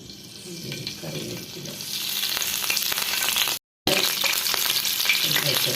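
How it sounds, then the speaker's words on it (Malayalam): Marinated chicken frying in sunflower oil, with a steady loud sizzle and crackle and occasional stirring clatter of utensils, continuous throughout apart from one brief cut; no talking. "നമ്മൾ ഈ ചിക്കൻ പതിനഞ്ച് മിനിറ്റ് വെച്ചതിന് ശേഷമാണ് ഇപ്പോൾ ഫ്രൈ ചെയ്യാൻ പോണത്"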